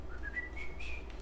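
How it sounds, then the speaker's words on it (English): A person whistles a single rising, sliding note that climbs steadily for about a second, fairly soft and alone over a low hum. "whistling"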